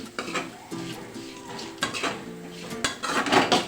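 A spoon scrapes and clinks against a pan as roasted crushed peanut powder is stirred into fried potatoes for sabudana khichdi, with repeated metallic knocks and soft scraping throughout.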